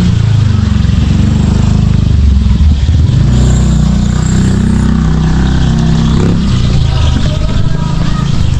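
A loud engine rumbles steadily throughout, low and close, like a motorcycle idling and revving nearby with faint background noise.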